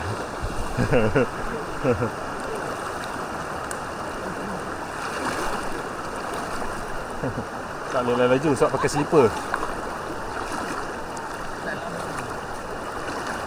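Water rushes and splashes steadily as people wade barefoot across a shallow river near a waterfall, with talking throughout and louder sloshing steps now and then.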